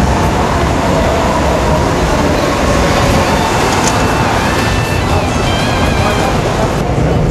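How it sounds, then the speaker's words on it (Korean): Steady loud rumble and rush of a Seoul-area subway train riding from Ori station, continuous rolling roar with faint high squeals and clatter, no talk. "지금 저희가 오리에서 지하철을 탔는데요"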